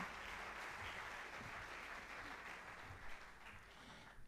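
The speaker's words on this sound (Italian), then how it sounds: "fategli un doppio applauso" An audience at a book event on Swiss mysteries gives a sustained round of applause, a dense, steady clatter of many hands filling the whole stretch at moderate distance.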